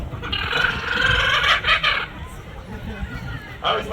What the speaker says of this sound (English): An Australian laughing kookaburra.